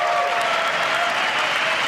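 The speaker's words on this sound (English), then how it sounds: "generous applause for both" Steady applause from an arena crowd greets badminton players Pusarla V. Sindhu and Nozomi Okuhara at a quarter-final match, a dense continuous clapping that stays loud and even throughout.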